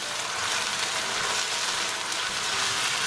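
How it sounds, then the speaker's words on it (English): Onion, ginger and garlic paste cooking in a pan, a steady, even hiss and sizzle of frying that runs without a break, close and fairly loud with no talking. "So we're going to cook our onion, ginger, garlic until it's nicely cooked."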